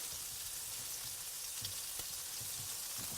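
Food sizzles steadily in a pan while being stirred, producing a continuous bright frying hiss with soft scraping touches throughout.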